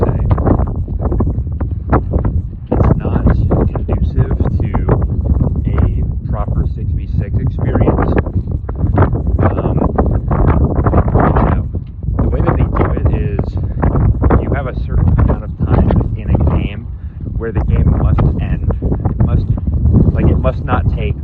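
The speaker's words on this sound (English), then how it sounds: "it's really windy out here" Strong outdoor wind buffets the microphone in a constant loud roar throughout, with a person talking continuously underneath.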